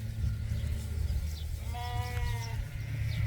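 Sheep on a farm bleat a few times at moderate distance, wavering calls rising over a steady low rumble of background noise.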